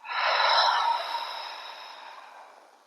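A single deep, breathy exhale through an open mouth swells quickly and then fades slowly over a few seconds, close and clear, taken during a seated yoga breathing exercise.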